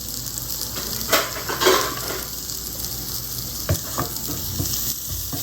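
Tomato sautés in a pan with egg and pepper for a South Indian thokku, a steady close sizzle with a few stirring scrapes and clatters, no voices.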